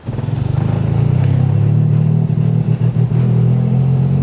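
Freshly built Toyota GR Corolla engine, recently misfiring, runs steadily with a loud, close low rumble and some uneven lumpy pulses as the car is moved, with a faint clatter over the drone.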